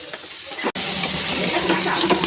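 Chopped carrot, onion and garlic hit a hot pan, giving a steady close sizzle with stirring scrapes and a brief dropout partway through.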